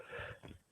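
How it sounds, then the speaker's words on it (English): A single short, close cough from a person, breathy and raspy, broken into two quick bursts, heard alone with no talk around it. "Good cough."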